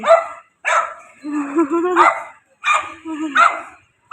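A dog barks hoarsely in repeated bursts, with rough growls between them, close and loud.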